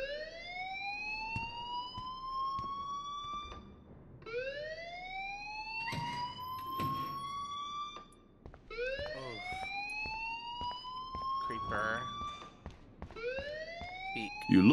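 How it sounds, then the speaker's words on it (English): Rising, wailing siren-style alarm from the video game Life is Strange, sweeping upward in four or five repeated cycles of about three seconds each, loud and steady, with clattering sounds between the sweeps. "please turn off that alarm since that's your job."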